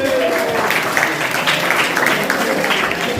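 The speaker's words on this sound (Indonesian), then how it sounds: "Tepuk tangan." Applause from a seminar audience at a high school healthy-lifestyle event, a dense steady wash of clapping lasting a few seconds at even loudness, with faint voices mixed in underneath.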